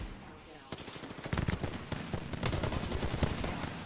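Bursts of automatic gunfire from Apex Legends, starting after a quiet moment and continuing in rapid, overlapping volleys that stay loud and fairly close for the rest of the moment.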